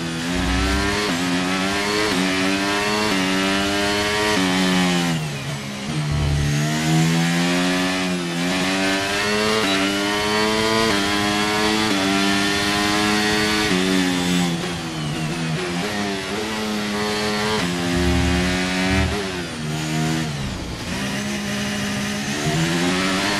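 A Formula 1 car engine in F1 23 lapping the Singapore circuit: loud, high-revving whine that climbs and drops steadily through gear changes, continuous throughout.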